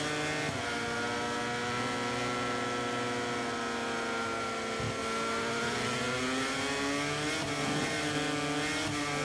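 Yamaha racing motorcycle in MotoGP 24, a steady high engine whine with rising and falling pitch as it runs in clear air, continuous and moderately loud throughout.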